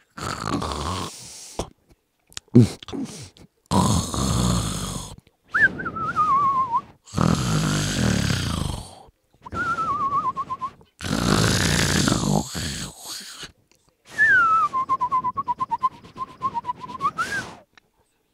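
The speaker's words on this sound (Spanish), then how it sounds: "se escucha un ronquido tan fuerte que todos voltean a ver" Loud snoring repeats in long rhythmic bursts, each rasping inhale ending in a high whistling tone, separated by short silent gaps, close and alone without talk.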